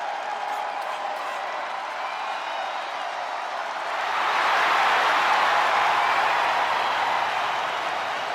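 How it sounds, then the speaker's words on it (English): Arena crowd at a WWE King and Queen of the Ring wrestling event cheering for Bianca Belair, a steady roar of many voices that swells louder midway and holds, with scattered clapping. "The WWE Universe loves cheering on the EST"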